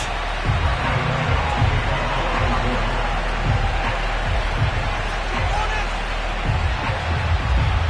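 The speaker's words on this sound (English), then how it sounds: "this crowd is ready to go" Dense, steady roar of a stadium crowd in an EA Sports football video game, with a continuous hubbub of massed voices and low rumble throughout, no distinct cheers standing out.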